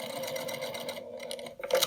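A sewing machine bastes across the top stitching on a patchwork fabric basket, a close, steady mechanical whir that pauses briefly before starting again.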